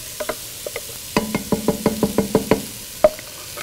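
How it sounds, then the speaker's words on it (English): Vegetables being sauteed in reused grease for sloppy farmer joes, with a run of evenly spaced stirring scrapes over a low sizzle, close and fairly loud, ending in one sharp clack. "start sauteing the vegetables"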